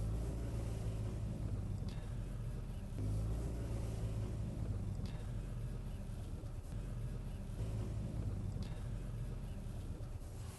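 Mini car driving along, a steady low engine and road rumble with faint wind noise throughout, fairly quiet and continuous with no clear talk.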